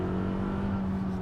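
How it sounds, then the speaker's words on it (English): A 2019 Toyota RAV4 crossover engine runs in sport mode, a steady low drone with a constant hum throughout, moderately loud and continuous with no distinct revving. "I'm getting the same engine sound out of it"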